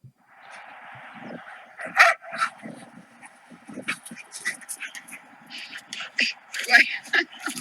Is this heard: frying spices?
no